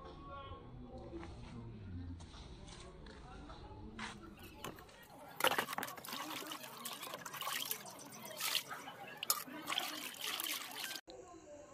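Water runs from a tap at an outdoor washing spot in Bangladesh as raw meat is rinsed, a steady trickle that turns into louder splashing and spattering partway through, with a voice speaking over it.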